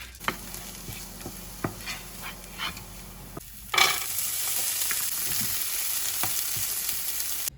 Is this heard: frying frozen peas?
yes